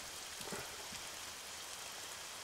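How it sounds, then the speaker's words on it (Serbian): Steady rain falling in the Arma 3 game world, a continuous hiss of drops on surfaces with no one speaking. "da više ne kisnemo po ovoj kiši"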